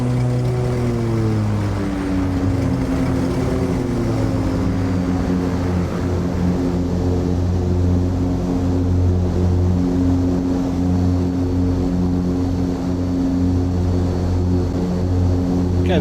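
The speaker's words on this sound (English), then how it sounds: "Okay, that's engine started." The piston engines of a de Havilland Dove in Microsoft Flight Simulator 2020 spin up from start and settle into a steady, loud droning hum with layered low tones, continuous and unbroken with no voices.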